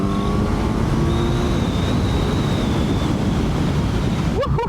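A Kawasaki Z900 motorcycle engine accelerates on a test ride, its drone buried under loud, constant wind rush throughout.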